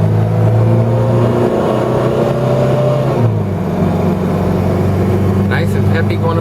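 Peugeot 504D diesel station wagon climbing a hill under acceleration, a steady loud engine drone heard from inside the car with a pitch shift partway through, and a voice talking over it.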